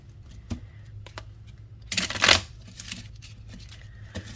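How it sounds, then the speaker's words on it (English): Cards are riffled in a quick shuffle, a brief flurry of crisp flutter in the middle, surrounded by a few soft taps and handling sounds. "let me give this a good shuffle"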